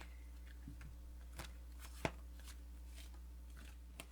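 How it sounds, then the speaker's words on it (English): Playing cards being riffled and handled up close, with a few crisp ruffles and taps, quiet and without talk. "I want you to shuffle a couple more times"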